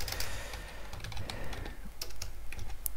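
Rapid typing on a computer keyboard during web app coding, a quick irregular run of light clicking keystrokes close up over a low background hum.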